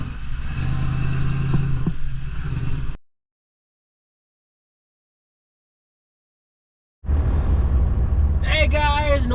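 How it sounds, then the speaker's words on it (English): An off-road vehicle's engine is revved hard under heavy throttle on a mountain trail: a loud, continuous roar that cuts to silence midway, then returns with a rising whine near the end. "hard throttle"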